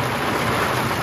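Rain falls during a storm at Oshkosh, a steady, dense hiss of drops that holds evenly and fairly loud throughout the brief moment.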